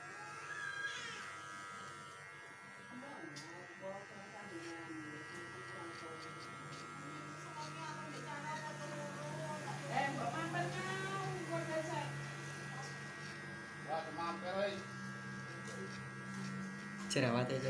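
Electric hair clippers buzzing steadily while cutting a fade haircut, a continuous close hum that runs throughout under someone talking.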